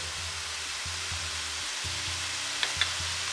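Food cooking in a pan as salt is added gives a steady, even sizzle, broken near the end by a couple of small clicks.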